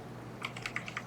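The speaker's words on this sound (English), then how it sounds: "I'm playing with a mouse and keyboard. I'm playing with the whatever G910 Logitech." Keys clack on a Logitech G910 computer keyboard during a game of Lunar Lander, a quiet quick run of about half a dozen clicks over a low steady hum.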